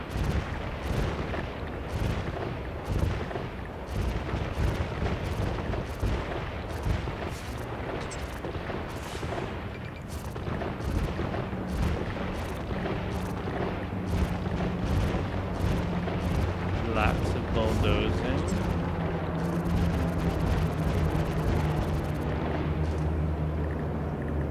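Rapid, overlapping booms and blasts fill a city being demolished in a city-building game, with a dense rumbling wash of explosions throughout and a burning crackle near the end; no speech.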